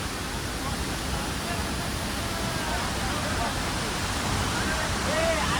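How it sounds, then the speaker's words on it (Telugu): Devkund waterfall roaring as a steady, dense wash of falling water, constant and fairly loud throughout with no pauses. "ఇదే మన దేవకొండ వాటర్ ఫాల్స్"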